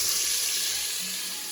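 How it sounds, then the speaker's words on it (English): Sausage sizzles steadily in olive oil in a pan for gumbo, a close, even hiss of frying with no talk. "You see this? Sizzling in there."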